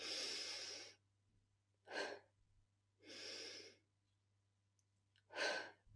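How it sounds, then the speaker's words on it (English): Deep breaths drawn through the nose in a slow breathing exercise: four long airy inhalations and exhalations with silent pauses between them, close and clear, no talking. "Inhale through the nose."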